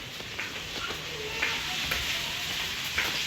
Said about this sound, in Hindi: अभी हमारा ऑयल भी अच्छा खासा गर्म हो गया, और ये भी, और बस चिकन को फ्राई कर लेते हैं